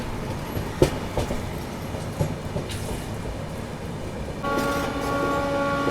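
New Delhi–Prayagraj Humsafar Express running at speed, a steady loud rumble of wheels on track with sharp clacks over rail joints early on, and a shift to a brighter, tonal whine near the end as the train slows.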